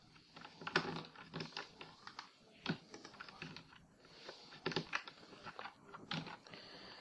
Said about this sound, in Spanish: Estaba tocando otra tecla.